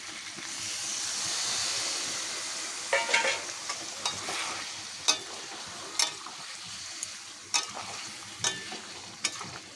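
Tomato and spices frying in a pan for chicken kosha: a soft hiss at first, then a run of sharp spoon scrapes and clatters against the pan over a continuous close sizzle.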